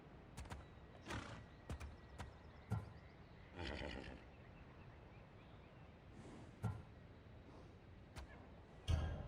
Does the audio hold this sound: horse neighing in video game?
yes